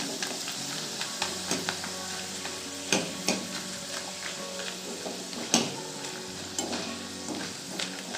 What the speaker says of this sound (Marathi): मी ते कडे तेल तापत ठेवले आहे त्यात आता आपण हे पापड टाकून घेऊ